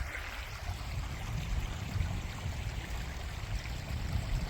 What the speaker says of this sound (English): they got creek water running by you